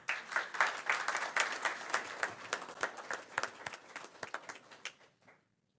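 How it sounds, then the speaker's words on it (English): An audience at a governing board meeting applauds the scholars with a moderate round of clapping that holds steady, then thins to a few scattered claps and stops after about five seconds. "Another round of applause for our AAA scholars."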